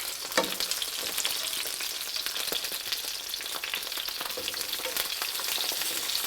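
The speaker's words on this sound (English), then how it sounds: "They have to cook like this" Italian peppers frying in a pan, a steady close sizzle with crackling bursts throughout and no speech over it.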